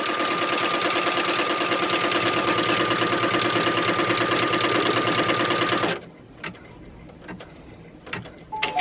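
An embroidery machine stitches down a vinyl luggage tag in the hoop, a loud, steady rapid needle chatter that runs for about six seconds and then stops, leaving quiet room noise with a few light clicks.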